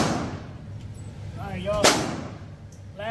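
A PSA Dagger pistol fires at a shooting range: one sharp, loud gunshot that cracks through mid-clip, while people talk before and after it.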